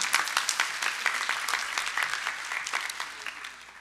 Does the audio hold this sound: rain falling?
no